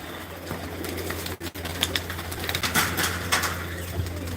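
Pigeons in Jassi Madhpur's loft coo repeatedly at a moderate distance over a steady low hum, with occasional fluttering and no talking.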